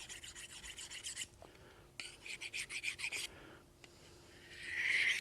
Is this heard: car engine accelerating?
no